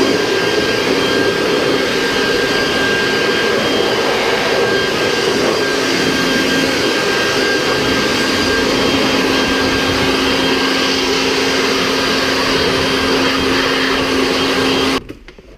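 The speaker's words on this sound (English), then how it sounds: "Blow all the ice off and wipe it down" A blower clears ice off a car during a snowstorm in Louisiana, producing a loud, steady whining roar with a constant tonal hum, close by and continuous until it cuts off at the very end.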